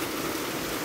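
Heavy rain pours steadily on an outdoor dirty kitchen, a dense, unbroken wash of sound with no voices over it.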